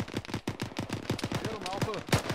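Rapid bursts of enemy gunfire in a military video game crackle in quick succession at steady volume, with a voice briefly audible among the shots.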